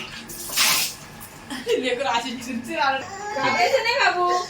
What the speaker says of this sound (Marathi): आमची आलू खेकडे धुतीये मस्त पैकी.